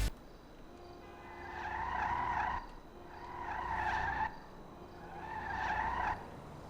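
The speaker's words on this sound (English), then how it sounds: "So trying to rev the car" Three repeated bursts of a revving car engine in GTA 5 Online, with a whining, squealing tone, each swelling and cutting off, separated by a steady idle hum.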